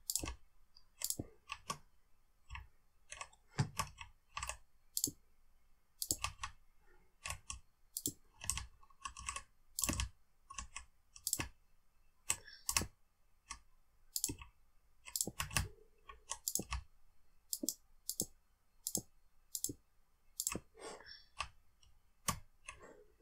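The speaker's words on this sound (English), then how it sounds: "It's supposed to be a silent mechanical keyboard." Steady typing on a silent mechanical computer keyboard, with soft, muted key clicks coming in quick irregular bursts and short pauses, close and fairly quiet, with no talk.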